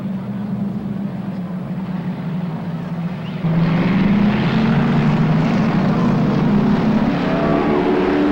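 Race cars roaring on the Silver State Raceway oval at a green-flag start, a steady engine drone that swells louder midway as the field passes close, under faint commentary.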